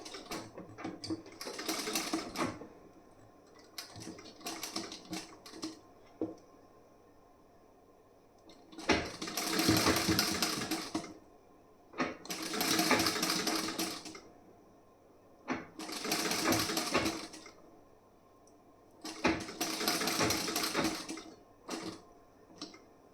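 Sewing machine stitching a piping joint on a blouse, close and fairly quiet, running in several short bursts of steady whirring separated by pauses.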